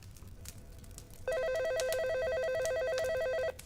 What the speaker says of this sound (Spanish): el teléfono sonó